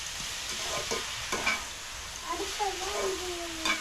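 Vegetables, banana flower and drumstick leaves, sautéing with salt in oil, a steady close sizzle with stirring scrapes and a few clinks of a spoon against the pan.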